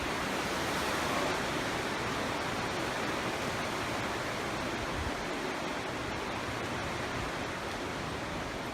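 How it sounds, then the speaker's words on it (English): Rushing white water of a spring river swollen with extra water in Sunny Valley, Oregon, makes a loud, dense, unbroken roar with no voices. "there's a lot of white water down there"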